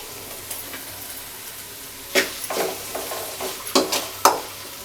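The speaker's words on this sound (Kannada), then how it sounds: "ಇವಾಗ ನಾವು ಇದು ಹಸಿ ಸ್ಮೆಲ್ ಹೋಗೋವರೆಗೂ ಚೆನ್ನಾಗಿ ಹುರಿಯೋಣ. ಸ್ವಲ್ಪ ಕರಿಬೇವು ಹಾಕೋಣ." Green chillies and curry leaves fry in a pan, a low steady sizzle that turns into several sharp bursts of scraping and stirring in the second half, close by with no voices.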